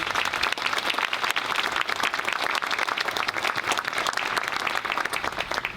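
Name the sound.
audience applause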